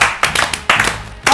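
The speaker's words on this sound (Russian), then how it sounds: "Мы хлопать должны." Several people clap their hands loudly and close by during a Что? Где? Когда? trivia game stream. Brisk, uneven bursts of claps repeat about four times in just over a second, with no clear talk over them.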